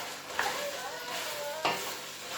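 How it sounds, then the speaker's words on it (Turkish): Kurban kavurma meat frying in a pan while a spoon stirs it, producing a continuous close sizzle with a couple of scraping strokes and faint tonal squeaks. "Ve artık böyle kaşıkla karıştırmaya devam ediyoruz."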